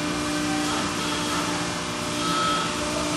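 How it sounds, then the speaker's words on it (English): An ABBE Engineering Company grinder with direct drive, a five-blade open rotor and two bed knives runs on a 30 horsepower, 220 volt three-phase electric motor, giving a loud, steady, even whirring roar. "ABBE Engineering Company grinder, powered by a 30 horsepower,"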